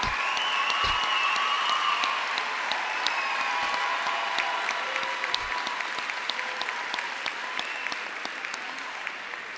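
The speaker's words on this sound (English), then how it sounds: "please stand for a round of applause" Sustained applause from a large crowd at a high school graduation ceremony, dense steady clapping with a few whistles rising above it, fading slightly toward the end.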